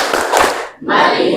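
A classroom of students performs the patterned clapping routine "tepuk fokus" during an ice-breaking warm-up, with dense bursts of claps and voices, a brief pause, then another burst.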